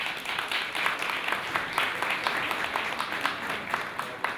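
Applause at a hairstyle show during a flower festival in Split, steady clapping from an audience that keeps going the whole time at moderate volume.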